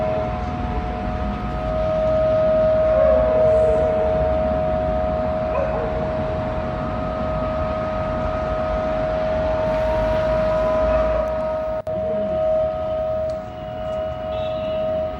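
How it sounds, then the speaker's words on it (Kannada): Civil defense air raid sirens sound across Jammu and Srinagar during a blackout, one long unbroken wail that stays loud and level for the whole stretch, with no talking. "ಜಮ್ಮು ಮತ್ತು ಶ್ರೀನಗರದಲ್ಲಿ ಸೈರನ್ಗಳ ಮೊಳಗಿದ್ದಾವೆ."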